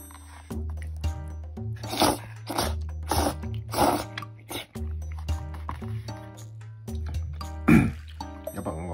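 Udon noodles are slurped and chewed noisily in repeated short bursts, with wet sucking and chewing sounds close to the mic and a quiet background between them.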